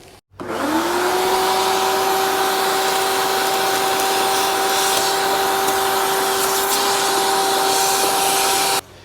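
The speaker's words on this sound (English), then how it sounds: "I'm going to vacuum it out and we'll clean all that." A vacuum cleaner switches on and runs steadily, cleaning out a Subaru Forester's engine air filter box, with a loud, even motor whine and airy roar, then cuts off at the end.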